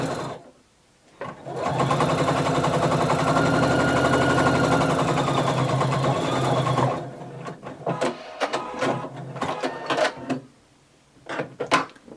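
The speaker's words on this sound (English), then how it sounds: "So using a 5/8 of an inch seam allowance, we're going to sew all the way down." Sewing machine stitching a 5/8-inch seam down the side of a skirt, a steady fast mechanical whirr running for about five seconds, then stopping, followed by scattered handling clicks and fabric rustle nearby.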